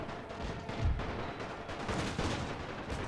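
Distant artillery and gunfire in a World War I battle from The Great War, with repeated dull thuds and rumbling shots scattered over a continuous low battlefield din.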